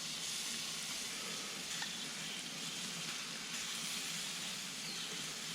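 Salmon coated in a sweet and spicy Asian glaze sizzles steadily on a BBQ grill, a continuous close hiss and crackle with no talking.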